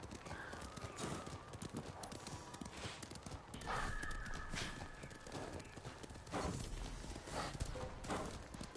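Horse hooves clopping in the Ghost of Tsushima video game, a steady run of hoof falls under a continuous backdrop of game sound, with louder bursts partway through.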